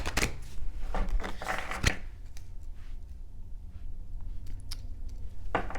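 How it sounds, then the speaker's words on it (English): Moonology oracle cards are shuffled by hand in a quiet room, giving several quick papery riffles and taps close up, then a softer stretch of light handling. "let me just shuffle to clear the deck"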